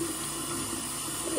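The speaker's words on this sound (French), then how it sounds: "Je me rince le visage avant." Water streaming steadily from a bathroom tap into a sink while someone rinses their face, a continuous close hiss with no talking.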